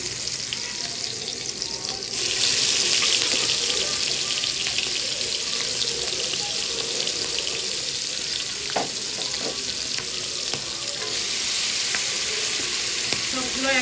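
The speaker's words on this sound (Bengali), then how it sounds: "তেলটা গরম হলে দিয়ে দেবো চিংড়িগুলো।" Shrimp fry in hot oil with a loud, continuous sizzle that swells sharply after about two seconds and crackles on steadily at close range, with no talking.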